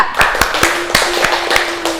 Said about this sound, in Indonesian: Beri tepuk tangan buat Mbak Ida.